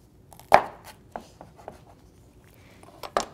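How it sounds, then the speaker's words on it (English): A knife cuts through a serrano pepper on a board, a sharp first chop followed by several softer, irregular cutting taps, close and alone. "And just cut the cap off there. Cut in half."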